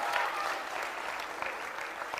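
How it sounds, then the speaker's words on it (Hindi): Applause from a group at a quiz show on stage, a fairly even spread of clapping held at a moderate level throughout, with a faint tone audible near the start. "सब बाहर आओ, तालियां बजाओ"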